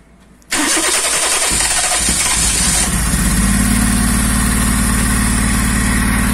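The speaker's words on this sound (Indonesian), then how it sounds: "Engine-nya nyala ya." A Honda Jazz engine running on a homemade Speeduino ECU cranks briefly, then catches and settles into a loud, steady idle close by, with no talking.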